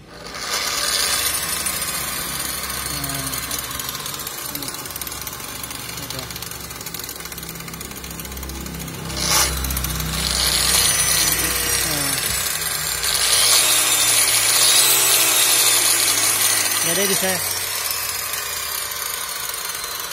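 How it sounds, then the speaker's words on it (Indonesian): A dimmer-controlled angle grinder, speed turned down, runs steadily while cutting a piston ring: a continuous harsh, broadband whine with small surges in level, close and fairly loud, with muffled voices underneath. "di sini saya memakai gerinda dimmer, jadi putarannya bisa kita setel"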